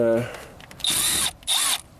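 Power drill spinning out screws from beneath a car, a flood-damaged Ford Focus with a dual-clutch gearbox: two short whirring bursts, close and loud, after a brief spoken moment at the start.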